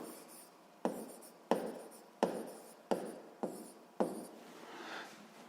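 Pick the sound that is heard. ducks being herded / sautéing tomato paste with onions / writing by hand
writing by hand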